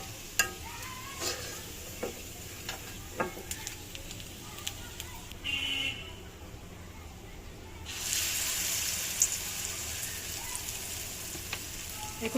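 Cauliflower fritters frying in oil make a soft, continuous sizzle with crackles and sharp clinks of a utensil against the pan, growing into a brighter, louder bubbling hiss toward the end.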